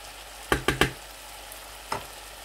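Pieces of chicken sear on a hot tawa, with three quick sharp sizzling hisses in a row and another a moment later over a faint background of frying.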